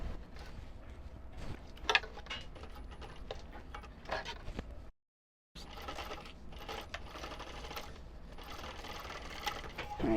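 A sewing machine takes stitches on a shoulder bag in short, close bursts of clicking and patter, broken by a brief silent gap midway.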